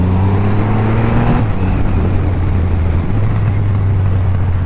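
A custom Triumph Rocket 3 motorcycle, the largest production motorcycle engine, pulls hard in second gear with a loud, steady engine drone that rises slightly in pitch before settling.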